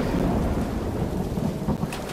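Thunderstorm in the pirate ship game Blazing Sails: a steady, loud wash of rain and low thunder rumble fills the whole stretch, with a brief rise near the end.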